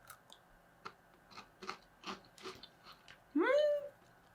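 Crunchy bites and chewing of a chocolate-covered corn snack come in a loose run of short, close bursts, then a brief voiced hum closes the sequence.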